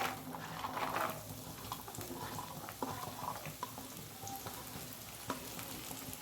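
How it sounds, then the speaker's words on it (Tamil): Red chillies sautéing in oil in a pan for a South Indian pirandai thuvayal, a steady close sizzle with scraping stirs and occasional pops. "இது நல்லா அப்படியே கொஞ்சம் நேரம் வதங்கட்டும்"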